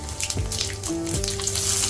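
Cumin and mustard seeds sizzle in hot oil in a wok, making a loud, steady hiss with a few brief tonal ringing sounds over it.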